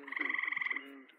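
A frog gives one short croak, a quick rapid pulsing rattle that lasts under a second and then trails off, close and clear with no talking.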